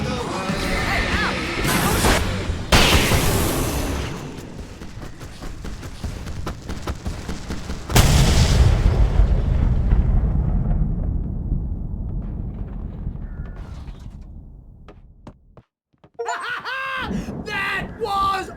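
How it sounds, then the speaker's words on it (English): Fireworks burst in the video game Alan Wake as a string of loud crashing booms and crackles, with voices shouting and laughing over them and a longer rumbling blast fading away. "I can set off more of the fireworks from here and help you out!"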